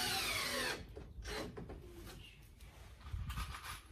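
Power drill running loud and close for under a second as a screw goes into a wooden armrest for an Audi TT car, followed by quieter workshop handling noises and faint clicks.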